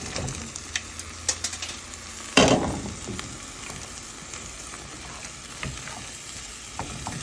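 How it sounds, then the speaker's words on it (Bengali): Potatoes and banana pieces going into a pan of fish being sautéed for a bitter gourd curry, giving a steady low sizzle with a louder burst of hissing and clatter as they drop in, then soft stirring. "মাছটা ভালোভাবে কষানোর পর আমরা আলু দিয়ে দিচ্ছি আর কলাগুলো দিয়ে দিচ্ছি"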